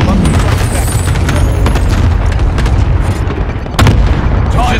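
Airstrike explosions in Call of Duty Warzone Pacific on Rebirth Island, a loud sustained rumble of booms and blasts with a sharp burst near the end, under game voice callouts.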